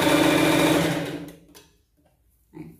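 A sewing machine stitches loudly and evenly for just over a second, sewing the right sides of fabric together for a Cinderella-style pet costume dress, then cuts off into near silence with a brief knock at the end.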